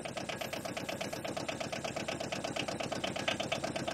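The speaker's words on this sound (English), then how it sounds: "So I'm going to use that now to pump up the tyres." A small tyre pump inflates the tyres of an Aixam Mega Multitruck, chugging in a fast, regular pulsing rhythm that stays steady and close throughout.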